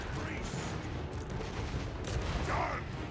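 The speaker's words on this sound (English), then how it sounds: "Guys are still shooting here." Continuous rattling gunfire from infantry squads in a Total War Warhammer 3 battle between Ogre Kingdoms and Lizardmen, a dense steady barrage with no clear breaks and faint voices mixed in.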